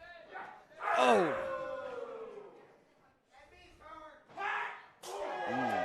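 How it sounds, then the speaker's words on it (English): Wrestling crowd at a Pittsburgh show roaring and shouting in bursts, with loud swelling yells, a brief lull, then renewed cheering. "Did you just hear our audience?"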